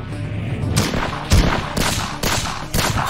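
Bursts of gunfire in the video game Bloodshore, several loud, sharp volleys at irregular intervals over a rumbling battlefield background.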